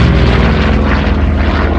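WWII-era propeller airplane flying overhead at a WWII weekend air show at the Mid Atlantic Air Museum in Reading, Pennsylvania, a loud, steady droning engine roar close by, filling the whole short stretch.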